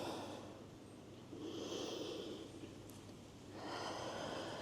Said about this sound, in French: Viens prendre 3 grandes respirations.